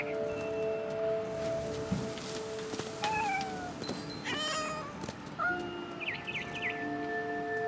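A cat meows in the video game What Remains of Edith Finch, a few soft, drawn-out mews spaced apart over quiet ambient rustling, fairly close and gentle.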